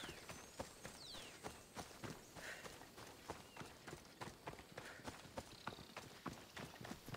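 Horse hooves in Assassin's Creed Odyssey clip-clop at a steady walking rhythm, crisp and regular, with faint ambient tones underneath and no talking.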